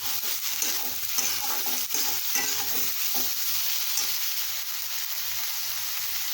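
Sliced onions and broken green chilies sauté in a pan over a medium flame, a steady close sizzle broken by repeated scraping strokes of a stirring spoon.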